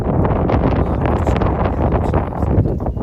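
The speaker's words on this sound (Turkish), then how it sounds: "Ben şöyle rüzgarı arkama alayım." Wind buffets a microphone with steady, loud rumbling and gusty roar, no clear voices over it.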